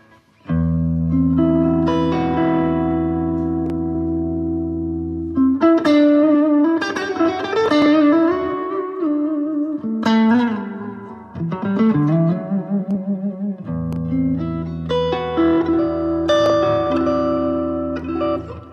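An electric guitar played through a Valeton GP100 multi-effects unit with delay and reverb switched on rings out as sustained melodic phrases and chords, each note trailing into echoing, spacious tails, with no talking.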